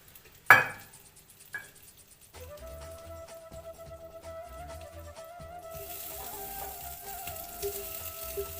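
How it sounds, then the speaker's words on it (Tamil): Butter sizzles steadily in a frying pan for a chicken recipe, a close, continuous crackling hiss that starts after a couple of sharp clatters and carries on alone. "பேனில் கொஞ்சம் பட்டர் போட்டுக்கலாம்."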